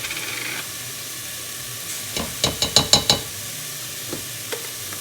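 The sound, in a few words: stirring garlic sizzling in pot for taco soup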